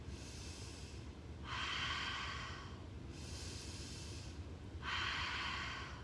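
Deep, slow breathing during a stretch in a boxing workout: two long, close breaths with an airy, hissing quality, each lasting over a second, separated by quieter pauses.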